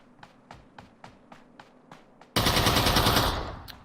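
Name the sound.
gunshots in the video game Ring of Elysium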